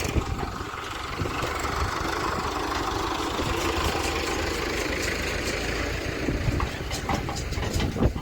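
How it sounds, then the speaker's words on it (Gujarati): A farm tractor's engine runs close by at a steady idle, a continuous low mechanical rumble with slight fluctuations and a few louder knocks near the end. "આ ટ્રેક્ટર જો હવે ચાલુ કરી લીધું છે"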